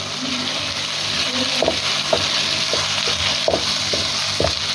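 Egg mixture for a spiced restaurant-style omelette with green chillies being mixed in a pan, a steady sizzle with repeated clinking stir strokes, close and alone.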